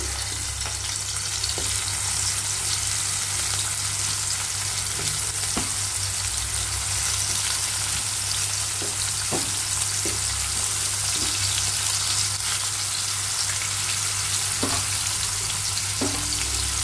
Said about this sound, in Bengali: এখন গরম তেলে দিয়ে দিই, বিসমিল্লাহ। এখন দিয়ে দিচ্ছি কাঁকরোল।